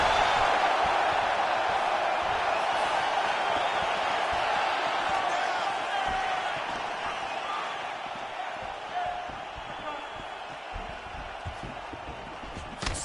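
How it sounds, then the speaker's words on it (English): An arena crowd at the UFC 248 mixed martial arts event roars steadily as fighters exchange punches, a dense broad wash of cheering that stays loud, then eases slightly toward the end. "you hear the crowd react every time they come together"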